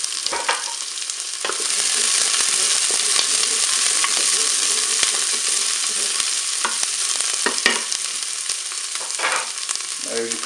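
Onions sizzling in the preheated bowl of a Cookeo electric multicooker, a bright steady hiss rising after a brief start, punctuated by scraping stirs and utensil knocks.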